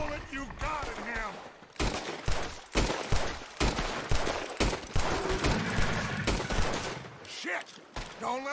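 Gunfire in the video game Red Dead Redemption 2, a dense fusillade of rapid, loud shots in bursts and volleys lasting throughout, with shouting voices woven through the shooting.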